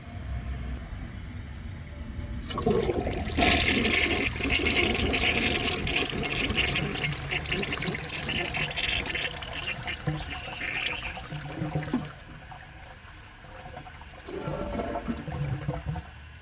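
An old 1978 Peerless toilet flushes with a rushing, gurgling surge of water, then quiets to a trickle as the tank refills, with a brief splash near the end.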